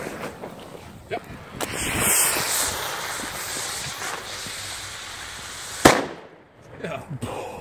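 1960s SAWIE Schwärmer fireworks fizz and crackle outdoors in wind, building to one sharp loud bang near the end, with people talking nearby.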